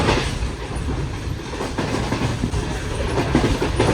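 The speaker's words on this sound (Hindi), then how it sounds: "ये कुछ स्पीड है ट्रेन की हैदराबाद से चलने के बाद" The Shah Hussain Express passenger train runs at speed from Hyderabad towards Lahore, a loud, steady roar of wheels and rails with constant rattling clatter throughout.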